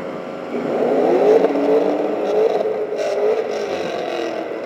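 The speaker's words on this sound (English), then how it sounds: "There's someone acting like me, going through the tunnel, rev it." A car engine revs hard while driving through a tunnel, the droning exhaust note rising and swelling with echoing reverberation, loud and sustained.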